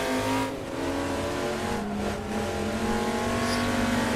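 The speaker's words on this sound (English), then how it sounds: "Back up with this E-Type as well." Jaguar E-Type race car engine in the Assetto Corsa video game at a virtual Goodwood Revival race, a steady loud engine drone with shifting harmonic pitch as it revs through gears, with brief dips and faint tire squeal.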